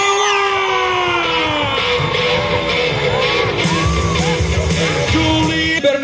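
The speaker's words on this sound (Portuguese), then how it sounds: "A galera grita pra você" Rodeo crowd at a bull-riding event yelling and whooping, a dense wash of shouts and whistles sustained throughout, loud and close with no clear pauses.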